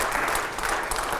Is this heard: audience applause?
yes